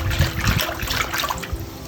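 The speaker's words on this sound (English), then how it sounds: "Keep agitating that water, and you can see how the colors are changing just a little bit." Water sloshed and swirled in a tray while rinsing a cyanotype print during wet processing, a close, continuous splashing and trickling.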